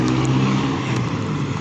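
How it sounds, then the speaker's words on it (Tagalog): A jeepney rumbles along a road with a steady, loud, low engine drone and a faint rising note as it passes close by, no voices. "Yan ang jeep na bumabiyahe dito"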